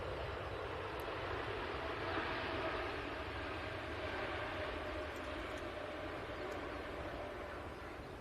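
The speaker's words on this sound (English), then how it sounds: "just had a Ryanair touchdown" A Ryanair airliner touches down on the runway, heard as a steady, broad roar of jet noise that holds level throughout and eases slightly at the very end, with no talk.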